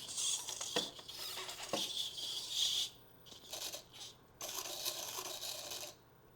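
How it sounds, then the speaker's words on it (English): A small GoGoBot D1 robot dog's motors whir and click through push-up movements, bursts of mechanical buzzing separated by brief pauses, close and moderately loud. "I want to see if you can do some push-ups."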